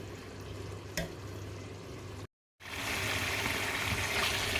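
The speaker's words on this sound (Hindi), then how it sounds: "अब इनको हम बॉयल करेंगे। एक दफ़ा हिला देंगे।" Soaked rice, a kilo of it, in a pot of boiling water being stirred once: a continuous bubbling hiss with a brief clunk early on, then a short gap before the bubbling returns slightly louder.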